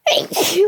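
A single loud, close sneeze bursts out sharply, starting abruptly and trailing off in a breathy, voiced tail.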